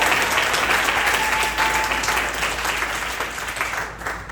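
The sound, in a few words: applause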